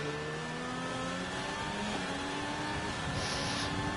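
A McLaren F1 car engine screams in an F1 racing video game at Hungary, a continuous high revving whine rising in pitch through several upshifts, steady and fairly close, with no talking.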